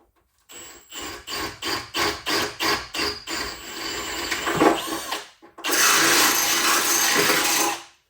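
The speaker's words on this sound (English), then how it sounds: "Take my next drill with a larger bit." A power drill with a larger bit runs in a series of short, rhythmic bursts into a BMW E46 fender, then bores continuously for a couple of seconds at close range before cutting off.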